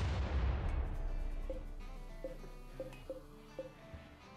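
A mortar shell fired from an auto-mortar explodes in the Rimworld video game: a heavy, deep boom opens the clip and rumbles away over about two seconds, followed by a string of short, light game tones.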